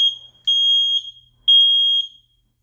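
A household smoke alarm being push-tested sounds loud, shrill electronic beeps in a steady pulsing pattern: two long tones of about half a second each, each led by short chirps, with no voices.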